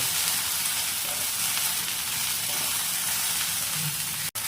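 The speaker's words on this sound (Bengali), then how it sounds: "এই সব মশলাগুলো দিয়ে আরও একবার ভালো করে ভেন্ডি আর আলুটা কষিয়ে নেব।" Okra and potato frying with spices in a pan give a loud, dense, continuous sizzle with no talking, holding steady throughout with only a brief dropout near the end.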